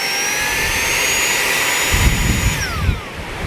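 A Saker 3-in-1 cordless vacuum cleaner runs with a steady, loud motor whine and high-pitched whirring tone throughout, shifting pitch slightly near the end with a few handling bumps.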